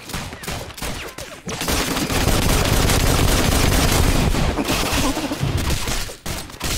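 Rapid gunfire from the video game Rounds, loud dense bursts building into a sustained barrage of overlapping shots, with brief gaps near the start and end and no talk.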